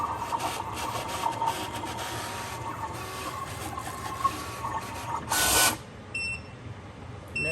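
A StarCraft Solo cutting machine cuts a printed sheet on a mat, its motor whirring and scraping steadily at moderate volume, ending in a brief louder burst followed by a few short electronic beeps.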